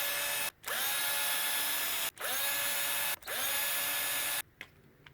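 A power tool backs screws out of the diff cover on a Traxxas TRX4 RC truck axle, whirring in three bursts separated by short pauses, close and loud, followed by a brief quiet tail.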